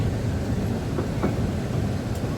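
An air-conditioned toy train at Eco Park in Kolkata, a steady low rumble and hum of the ride running, close and continuous, with no talking.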